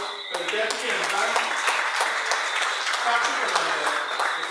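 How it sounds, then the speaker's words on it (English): Sustained audience applause fills an award ceremony hall for a security guard service, dense steady clapping at fairly close range with no talk over it for several seconds. "A round of applause for the Deputy and Bank"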